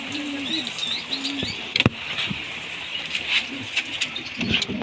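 Pigeons in a backyard coop cooing in soft repeated low calls, with chirps and occasional flutters or taps, close by and continuous.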